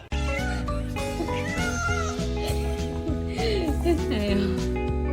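A cat meows and caterwauls over loud, continuous background music, its cries rising and falling in pitch through the middle and end of the stretch.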